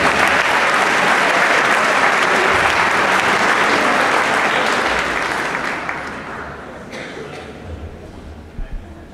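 A high school audience breaks into a strong round of applause, dense clapping from many hands that swells, holds, then tapers off over several seconds, leaving scattered claps and a few voices.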